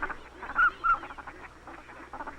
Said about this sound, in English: Kentucky's roster of waterfowl lists at least 30 species of ducks, geese, and swans.